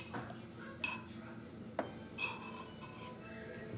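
A utensil stirs a bowl of very hot alkaline chowder soup, giving a few sharp clinks of metal on dish among soft scraping. Someone speaks briefly nearby.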